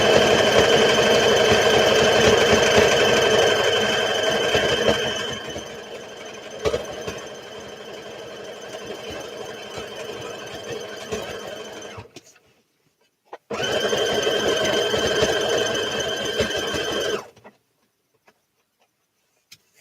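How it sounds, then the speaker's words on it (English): A sewing machine runs steadily and close up, stitching the side seam of a trouser leg for a Simplicity S8855 pattern, then slows, stops briefly, and resumes for a second run before falling silent. "Right now I'm just sewing up the side seam on the leg."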